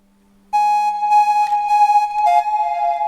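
A modular synth oscillator transposed down an octave plays a sustained, steady tone that starts abruptly after a faint low hum, with a brief pitch drop near the end.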